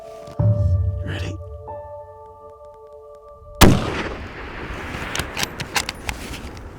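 A hunting rifle fires at a ram on a mountainside, one sharp loud crack and a broad blast partway through, followed by rustling and scattered clicks of reloading. An engine-like drone runs through the first half.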